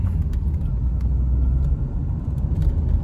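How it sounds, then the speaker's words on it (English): Steady low rumble from inside a Citroen Xsara hatchback on the move, its engine running quietly beneath road noise, even and unbroken throughout with no talking. "the engine sounds really quiet on this"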